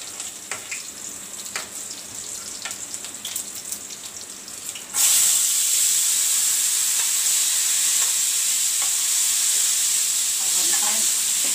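Cumin seeds hit hot oil and burst into a loud, sustained hiss partway through. Before that, a few quiet kitchen clinks sound close up.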